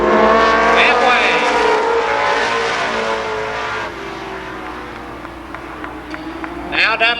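ARCA Pro 4 race cars roar around Columbus Motor Speedway in 1992, a loud sustained engine drone that slowly fades as the pack moves down the backstretch, with a race announcer talking over it.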